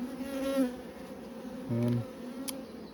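Low humming of bees inside a hive, with a few louder buzzing swells as individual insects pass near, and no talking.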